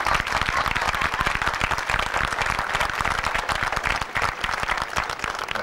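A concert audience at a Carabinieri band performance in Isola del Liri gives a sustained, dense round of applause, steady and loud throughout with no voices over it.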